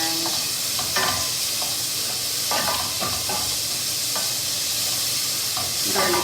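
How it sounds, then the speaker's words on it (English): Onions and garlic sizzle in hot cumin-spiced oil for an Indian zucchini dish, a steady loud hiss broken by a few sharper crackles and spoon-stirring clatters. "that's how you know that it's kind of time to now throw your onions"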